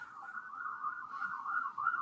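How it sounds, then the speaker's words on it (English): A wailing siren carries steadily in the background for about two seconds, a continuous rising and falling tone without any talk. "Sorry for the siren noise in the background."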